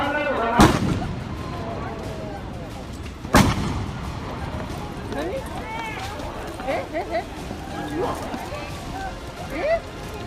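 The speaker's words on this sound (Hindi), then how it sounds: "तभी पीछे से गोली चली।" Two sharp gunshot bangs about three seconds apart, loud and close, over constant crowd chatter and voices at the outdoor election campaign speech where a politician was shot.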